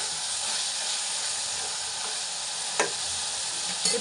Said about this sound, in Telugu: బాగా వేగినాయి కదా ముక్కలు.